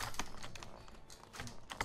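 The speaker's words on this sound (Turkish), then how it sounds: "Tam mikrofon klavyenin üstünde. Şu an o sesler çok geliyorsa kusura bakmayın" Computer keyboard typed on right beneath the microphone during a Nidhogg game session, a quiet run of rapid clattering keystrokes with a few sharper taps.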